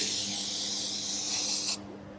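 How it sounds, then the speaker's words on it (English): A steady, close hiss of an aerosol prep spray on a Tri Five bumper runs for almost two seconds, then cuts off abruptly, leaving quiet background. "Next thing, we're just going to use some prep spray."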